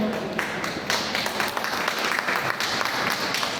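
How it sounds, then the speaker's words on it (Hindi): Audience applause welcoming performing artists at a public event, dense steady clapping from a crowd filling the whole stretch at even loudness. "कृपया सभी तालियों के साथ जोरदार स्वागत करें हमारे कलाकारों का, उत्साह वर्धन करें।"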